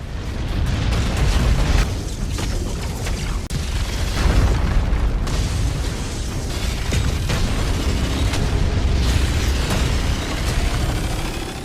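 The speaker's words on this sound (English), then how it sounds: "While giving chase, Venerable Feng displayed his power by exploding nearby planets and stars" Dense, rumbling booms and bursts roll on continuously as planets and stars explode in an animated fantasy series, heavy low-end blasts layered over crackling debris for the whole stretch.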